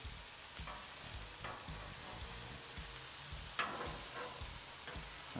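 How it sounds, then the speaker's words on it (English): Scallops and shrimp sizzle steadily on a Blackstone griddle, a constant bright frying hiss with occasional scrapes and taps of a spatula, one sharper clack near the middle, and no talking. "let's go ahead and get these scallops flipped over"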